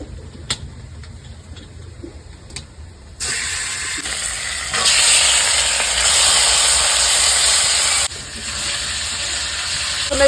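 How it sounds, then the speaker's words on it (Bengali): Meat dropped into hot oil with fried onions sets off a loud, steady sizzle that jumps up suddenly and holds, swelling louder midway before easing slightly near the end, with no talk over it. "এই দেখো এখন এই মাংসটাকে আমি দিয়ে দেবো।"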